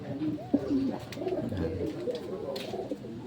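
Domestic pigeons coo in a backyard loft, including red bar and blue bar birds in nesting pairs: close, continuous soft warbling coos that overlap one another.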